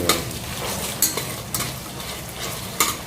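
Ginger garlic paste and biryani masala fry in a pan, a steady close sizzle with a few sharp spoon scrapes and clinks against the metal as it is stirred.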